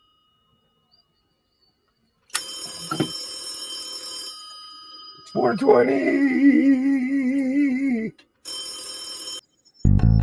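A telephone rings in bursts indoors, a bright trilling electronic tone that cuts in and out over several seconds, with people talking around it.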